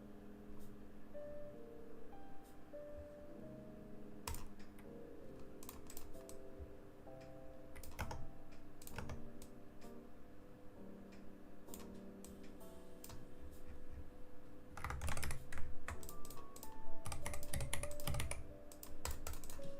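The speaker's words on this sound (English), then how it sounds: "Your keyboard sounds nice" Steady typing on a computer keyboard during a live stream of building a Geometry Dash level, with rapid soft key clicks throughout that grow busier and louder in bursts toward the end.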